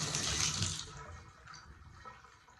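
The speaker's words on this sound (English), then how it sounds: "Now I'm going to turn the water back on." Household water supply turned back on gushes loudly from a faucet at first, then drops to a quieter, steadier running trickle.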